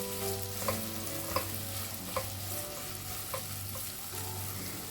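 A quarter cup of finely chopped carrots sautés in a pan for Kerala-style rava upma, a steady close sizzle punctuated by regular light spoon taps as it is stirred.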